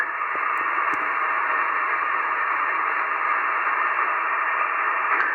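Constant hissing static from a 1967 Yaesu FT dx 100 shortwave receiver fills the air, S5-level noise with AGC off, a steady band with faint crackles and no voices.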